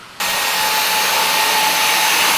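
A carpet cleaning extraction machine with a 2-inch wand kicks on abruptly, its strong suction roaring loud and steady, with a constant high whine throughout.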